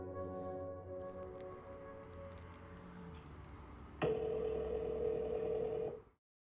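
A telephone dials out in a tense drama scene, a low murmur of tones giving way to a loud, steady electronic ringing tone that holds for two seconds before cutting off abruptly.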